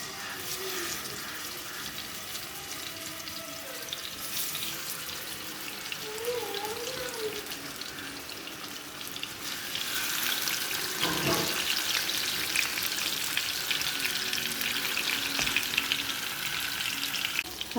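Avoli fish slide into a hot pan and fry with a steady crackling sizzle that swells louder partway through and keeps going, with a voice faint underneath at first.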